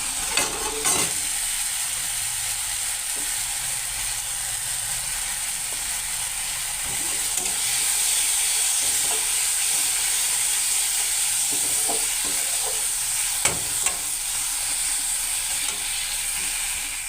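Egg curry masala of cumin, coriander and Kashmiri chili powder fries in a pan with a continuous bright sizzle, while occasional spoon scrapes and knocks sound close by over a long stretch.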